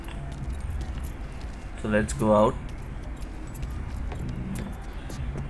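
Car keys jangling in the video game Mafia 3, a light metallic rattle with scattered clinks over a low ambient hum, and a voice speaking briefly in the middle.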